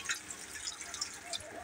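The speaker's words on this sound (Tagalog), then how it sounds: "Ayan, lagyan natin ng kaunting tubig yung ating" A small amount of water is added to sautéed meat in a pan while cooking Filipino adobong sitaw, giving a faint, soft dripping and splashing sizzle over about two seconds.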